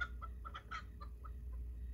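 A chicken on a bus clucking in a quick series of short, soft clucks over a low rumbling hum, fairly faint and close.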